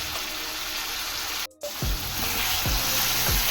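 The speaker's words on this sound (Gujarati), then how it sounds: "તો હું આમાં નાખીશ ડુંગળી." Finely chopped onion dropped into hot oil, a loud, bright sizzle broken by a brief silent gap, then resuming strongly with faint utensil taps.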